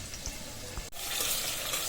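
Frying in hot oil, with pointed gourd, potato, onion, garlic and green chillies in the pan as a water-soaked ground spice paste goes in; a steady close sizzle swells louder and brighter after a brief dip midway.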